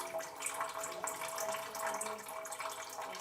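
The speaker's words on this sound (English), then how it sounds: "residents pump out the brown liquids by the buckets every day" Brown water being pumped out into buckets in a village home, a continuous rushing, splashing flow pouring steadily and close by, with no speech.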